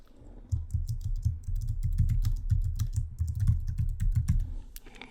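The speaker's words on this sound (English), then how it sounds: "I'll type a novel of suspense" Typing on a computer keyboard, a steady run of close rapid key clicks with a few heavier strokes, heard alone without talk.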